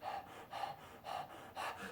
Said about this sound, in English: Like panting like a dog.